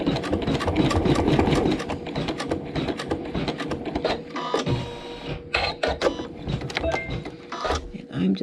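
Sewing machine quilting a Moroccan Sunset quilt block, a fast steady mechanical stitching rattle running in bursts with short pauses, close and clear, with a voice talking now and then.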